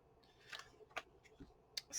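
Scissors snipping paper for a collage made from old French ephemera, giving a few quiet, separate crisp cuts spread unevenly over a couple of seconds, faint and close, with no talking.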